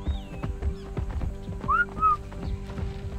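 In the ARK survival game, a short rising whistle command plays amid dinosaur footsteps and background game sounds, with a few brief tonal chirps standing out over steady thudding steps.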